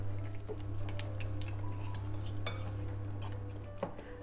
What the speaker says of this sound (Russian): И опять хорошо перемешиваю, чтобы масса стала однородной.